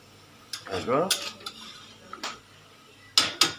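A lid set onto a pot of goat meat curry cooked Assamese style with onions, giving a few sharp metallic clanks and clatters close by, with a final pair of distinct clinks.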